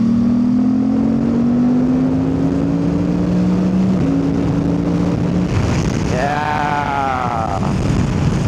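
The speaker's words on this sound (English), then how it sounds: "switch in fourth gear, give it some gas one more time" A Suzuki V-Strom 800DE motorcycle with a DNA air filter pulls in fourth gear, a steady engine drone rising slowly, then a sharper surge of throttle as the revs climb, heard over continuous wind rush while riding.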